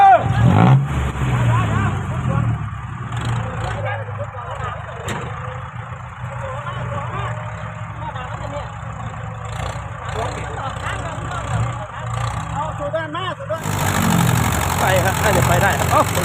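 A six-wheel truck hauling sugarcane drives out of a field in the rain, its engine rumbling and revving steadily, with people talking over it.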